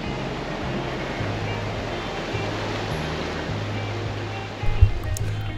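Waves wash continuously onto the shore of Lake Ontario at Oswego, New York, a steady broad surf hiss with a low hum beneath and a brief thump near the end.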